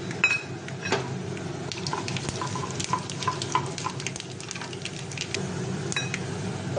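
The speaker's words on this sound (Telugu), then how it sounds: "ఇప్పుడు పోపులు వేసుకోవాలి" Tempering spices dropped into a hot kadai while cooking a pumpkin curry crackle and tick in scattered small pops over a steady low kitchen hum, without any speech.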